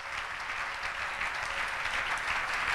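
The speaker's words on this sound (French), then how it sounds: "Est-ce qu'on peut acclamer pour les Seigneurs?" Steady, dense applause from a church congregation during an evening Bible study, a broad wash of clapping hands at even loudness throughout with no talk over it.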